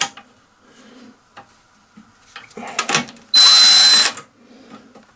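A small hand tool works on small 5/16 bolts of a Briggs Quantum engine, giving scattered clicks and ticks and then a short, loud burst of whirring, with quiet handling noises around it.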